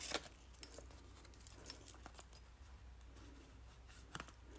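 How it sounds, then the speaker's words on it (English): Scissors trimming the ends of a paper craft project, a series of crisp close snips and paper rustles at a quiet level. "And then we're going to trim the ends"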